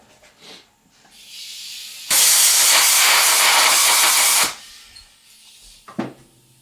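Compressed air blasting off a lathe tailstock quill on a South Bend lathe under restoration, one loud, sharp hiss lasting about two seconds between quieter workshop handling sounds, with no talk.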